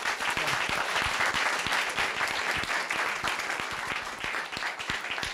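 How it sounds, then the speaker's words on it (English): A large audience gives panelists a sustained round of applause after a public dialogue on governance. The clapping is dense, loud and continuous throughout, with no talking over it. "can we just give a round of applause to our panelists?"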